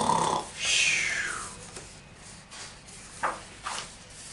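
A voice imitates the snoring of a dump truck from a children's bedtime book about a construction site: a breathy, drawn-out snore followed by a couple of short soft snorts, close and quiet with no other talk.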